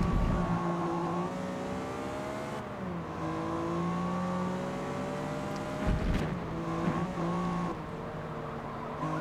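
Racing car engines in the video game Forza Motorsport whine and rev steadily, pitch rising and falling with gear shifts, continuous and fairly loud with no talking.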